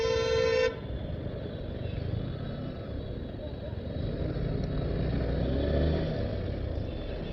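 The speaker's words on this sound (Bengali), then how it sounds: "আর এটা রেলগেটেরই জ্যাম।" A car horn blares for about half a second at the start, then a dense traffic jam at a railway gate in Kolkata rumbles on with idling engines and a low continuous road drone.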